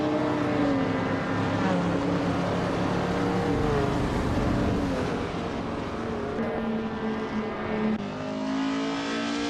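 A 1964 Abarth 595 SS racing in a race, its small engine a steady loud buzzing drone with shifting pitch, blended with other cars' engine noise throughout, no distinct pauses.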